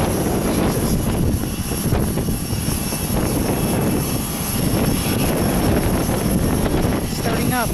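An aircraft engine starts up at Aurora Municipal Airport, a loud, steady roar and rumble from nearby with wind buffeting, and a voice talking faintly beneath it.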